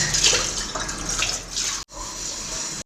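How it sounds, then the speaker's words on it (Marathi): Tap water runs steadily into a sink while steel plates and dishes are scrubbed and rinsed at home, a close, continuous splashing rush that cuts off abruptly near the end. "चला भांडे घासायला सुरुवात करूया आपण. एक एक करून सर्वच ताट धुवून घेतोय व्यवस्थित"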